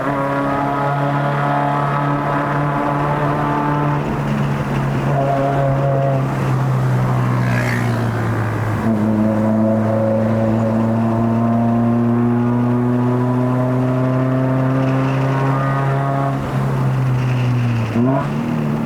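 A Perodua Bezza 1.3L with a manual gearbox climbs uphill toward Genting, its engine droning steadily and close as the revs rise, with a brief dip at each gear change.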